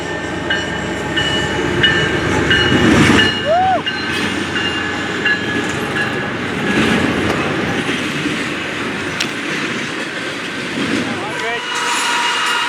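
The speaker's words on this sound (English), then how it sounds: "he's coming in fast. Another intermodal. AC 44 C6M 8123." An intermodal freight train led by an AC44C6M locomotive rolls in fast, its steady loud rumble and rail clatter filling the scene with squeals and horn-like tones, while a person talks over it.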